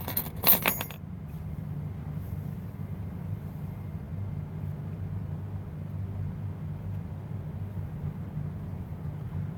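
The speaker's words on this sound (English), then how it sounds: "Lay my keys here." Keys are set down with a quick metallic jingle and clink right at the start, close and bright, followed by a long low hum of idling engines in the background.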